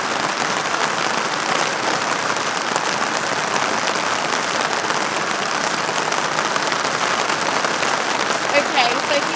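Steady, heavy rain falls outdoors during a review of clear plastic Pleaser Flamingo-801 8-inch slide-on mule high heels, a dense, even hiss of drops on surfaces that runs unbroken throughout.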